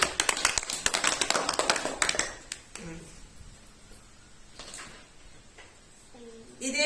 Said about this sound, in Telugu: give claps to Gautam